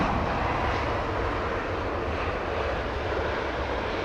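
A British Airways Boeing jet approaches London Heathrow, a continuous broad engine roar at constant loudness with no one speaking.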